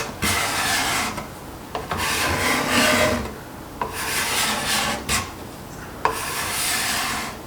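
A steel card scraper is drawn repeatedly along an Accu-Burr scraper burnisher to raise a fine burr, making loud, rhythmic rasping strokes, roughly four long passes with short pauses between them, close up and without speech.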